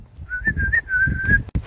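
A human voice whistles an imitation of a British bird call, a steady high warbling tone lasting about a second with soft rustling and low background noise underneath.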